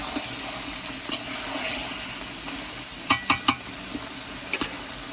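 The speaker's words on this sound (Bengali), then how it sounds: "মাংসটাকে সুন্দর করে নাড়া দিয়ে এবারে ঢাকা দিয়ে দেবো" Duck meat sizzles softly in a pan while being stirred, with a low continuous hiss broken by a few sharp scraping clicks from the spatula close by.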